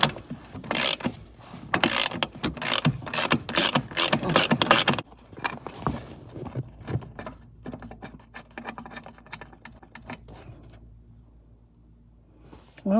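Metallic clicks, scrapes and a rapid patter of wrench or ratchet work while bolts come out of a Jeep Comanche cab interior, busy and close for the first five seconds, then sparser taps and rattles.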